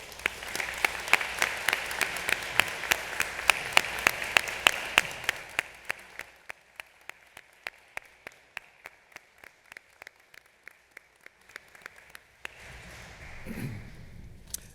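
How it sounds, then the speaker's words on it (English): Audience applause for inductees at the close of the Tri-Alpha induction ceremony, a dense burst of many hands clapping that thins after about six seconds into scattered individual claps, with a brief low murmur near the end. "let's give all of our inductees a final round of"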